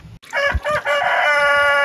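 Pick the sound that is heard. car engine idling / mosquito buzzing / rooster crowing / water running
rooster crowing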